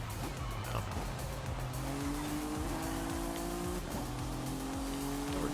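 Racing car engine of a 2017 Acura NSX in Forza Horizon 5, a steady loud drone with rising gear pitches and shifts, tire squeal mixed in, continuous throughout without talk.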